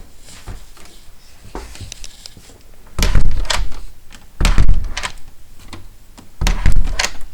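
A door strikes against a jamb installed at an angle, failing to close: three loud, close thumps in a row, each a heavy knock with a brief rattle, separated by quieter handling noise.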